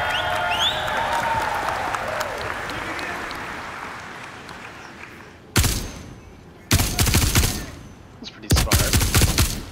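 Gunfire in the Star Citizen video game: a sustained rattle of shots gives way to three sharp, loud bursts of weapon fire, with players talking during the fight.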